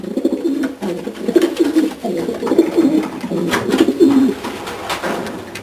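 Janssen racing pigeons coo in the loft, several soft repeated low coos overlapping with light rustling and wing shuffles nearby.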